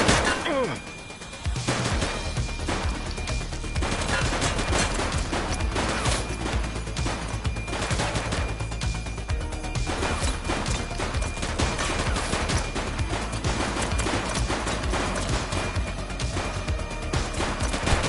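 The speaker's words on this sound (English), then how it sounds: "Shots fired!" Sustained gunfire in The Precinct video game, dense rapid shots rattling continuously after a brief lull at the start, loud and close, with voices talking over the barrage.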